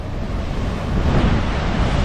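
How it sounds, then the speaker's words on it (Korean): Large ocean waves crash along the coast at Finisterre in Spain as strong wind buffets the microphone, a loud continuous roar of surf and gusts with no talking. "갑자기 바람 불더니 어마어마해 파도가 와 다이나믹하네 진짜 파도가 미쳤어"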